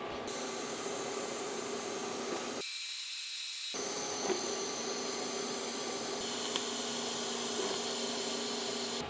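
TIG welding on a BMW E30 M3 gives a steady, close electric buzz and hiss. It cuts out briefly partway through, then resumes and holds evenly to the end.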